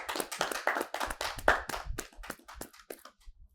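A group of people applaud together in a brief burst of dense, fairly close clapping that fades toward the end, with faint voices mixed in.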